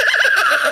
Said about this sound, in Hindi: देखो कैसे गधा घोड़े की आवाज निकाल रहा है